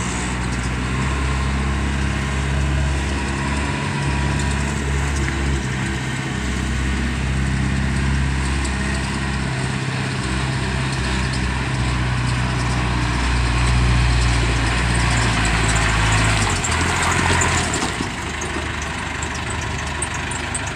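A Caterpillar 416B backhoe's diesel engine idles steadily and loudly for the whole stretch, with a low, even rumble and no voices.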